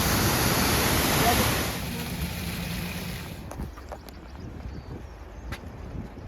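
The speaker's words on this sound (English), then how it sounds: "There's a waterfall there." A waterfall in Skagway, Alaska, roars as a steady broadband rush for the first few seconds, then fades to a softer, more distant hiss of falling water with faint background sounds.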